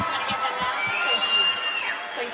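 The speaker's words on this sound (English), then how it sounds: "And one more big round of applause." An audience at a local celebrity dance competition claps and cheers, a continuous crowd roar with whoops rising over it, moderately loud throughout.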